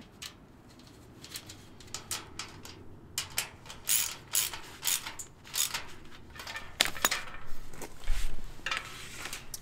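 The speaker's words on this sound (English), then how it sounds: "getting the frame into place using bolts A, just to bolt up and through this pattern" Metal bolts are ratcheted into a globe-style steel fire pit frame, producing rhythmic clicking and clanking bursts close by, with occasional metallic knocks as the sections are fastened.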